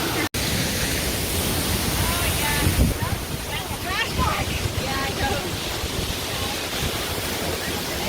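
A waterfall roars at the bottom of the falls, a dense, steady rush of water heard close, with brief voices rising faintly through it midway.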